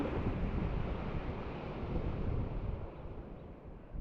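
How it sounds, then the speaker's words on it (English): Ocean surf at a Baja beach roars as a steady broadband wash, with wind buffeting the microphone and no voices. "we apologize if the sound is a little bit rough, but it's the sound of the ocean"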